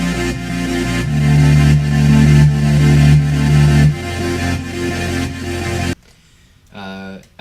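Several Serum synthesizer patches play together, led by a huge filtered bass with a growl. A dense, loud electronic mix pulses in sections, then drops to near silence before a short filtered synth phrase returns, with no talking.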